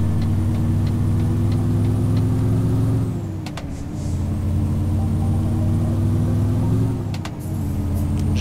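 Mercedes-Benz MP1 truck engine in Euro Truck Simulator 2, a steady low diesel drone that dips briefly twice as gears shift, with faint hissing clicks from the cab.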